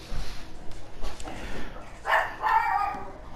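Household dogs barking and yipping in the background, several short rough barks over a few seconds, moderately loud with some room echo, no speech.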